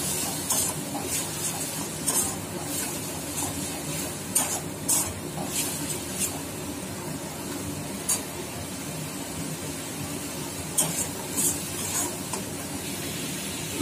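Spice paste sautéed and stirred in a pan for a quick gatia vegetable curry, giving a steady close sizzle with scraping stir strokes and occasional sharper spatters throughout.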